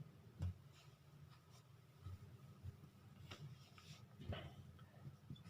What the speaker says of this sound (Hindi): मैं यहाँ पे फैमिली लिखता हूँ